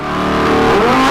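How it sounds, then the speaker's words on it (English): A Lamborghini Huracan Performante engine revs hard nearby, a loud rising roar that builds over about a second. "this guy in a Lambo Huracan Performante is revving up his engine"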